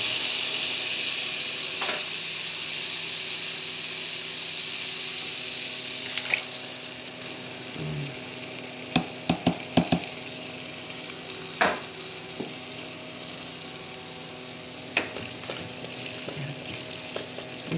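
Seasoned chicken breast sizzles steadily in a pan with vegetables, a close continuous frying hiss broken by occasional sharp stirring clicks and utensil scrapes.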